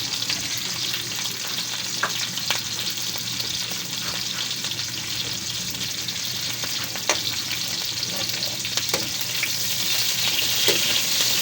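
Fried fish is added to vegetables cooking in a pan with a steady, close sizzle and hiss, broken by occasional stirring clicks and scrapes. No one speaks over it.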